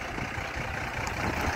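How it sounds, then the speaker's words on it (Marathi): Truck carrying earth fill at a railway station construction site, engine idling with a low steady rumble, moderately near and fairly quiet, no talk. "बघा, भराव घेऊन आलेली गाडी."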